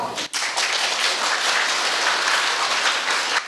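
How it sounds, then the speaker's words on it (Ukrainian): A hall audience gives sustained standing applause after a patriotic lesson, dense steady clapping filling the room at close range and holding for several seconds with no voices. "По завершенню патріотичного уроку Володимиру Балуху аплодували стоячи."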